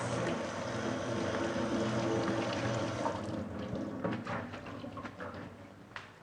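Ripped lettuce is rinsed under running water, giving a steady splashing wash for several seconds that tapers off into a few clatters and drips, close and alone without talk.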